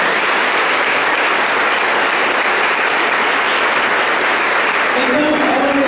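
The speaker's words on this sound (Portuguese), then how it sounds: "palmas para os artistas" Loud, steady applause from a church congregation at a Corpus Christi Mass, sustained dense clapping throughout with faint voices emerging near the end.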